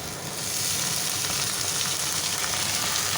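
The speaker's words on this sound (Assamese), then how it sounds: "এতিয়া মই কাবুলী বুট আৰু আলুখিনি ইয়াত মই দি দিম" Potatoes and chickpeas hitting hot oil set off a loud, steady sizzle and crackle that carries on without a break, close and alone with no voices.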